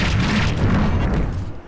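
A bomb goes off in the video game Sword of the Berserk: Guts' Rage, making a loud, deep rumbling boom that fills the moment and fades slightly at the end.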